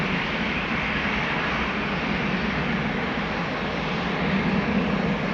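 A Dash 8 turboprop airliner on its takeoff run at Amsterdam Schiphol Airport, a steady broadband engine roar heard from a distance with no voices.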